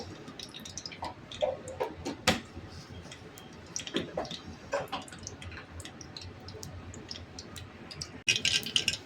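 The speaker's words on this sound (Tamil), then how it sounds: "கடுகு பொரிச்சு இது போல சீரகம், சீஞ்சு அந்த ருச்சி போட்டுருக்குறோம்." Mustard seeds pop and splutter in hot oil in a pan while rice and dal are being cooked, giving irregular close crackles and sharp pops over a soft sizzle, with a louder burst near the end.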